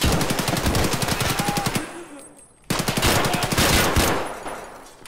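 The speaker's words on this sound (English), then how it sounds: "Who started the shooting?" Rapid automatic gunfire in a first-person shooter video game: loud, dense bursts of shots crackle close by, break briefly, then erupt again in another sustained volley.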